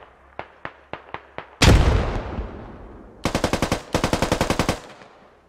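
Gunfire in the tactical shooter Squad: five sharp single shots, then a loud booming blast with a long decay, followed by two rapid automatic bursts, close and crisp.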